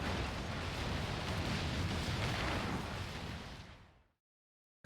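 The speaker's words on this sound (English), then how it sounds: "Enjoy the fireworks." Fireworks exploding in Final Fantasy XIV, a dense, continuous roar of bursts and crackling blasts that holds steady and then fades out into silence.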